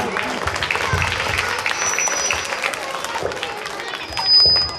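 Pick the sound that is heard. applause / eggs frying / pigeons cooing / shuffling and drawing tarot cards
applause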